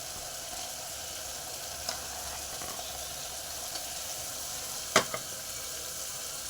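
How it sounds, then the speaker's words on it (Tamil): Capsicum sautés in a pan with a quiet, continuous sizzle, and a sharp utensil clink rings out once near the end. "இது கொடை மிளகா எடுத்து வச்சுருக்கேன், போட்டுறேன்."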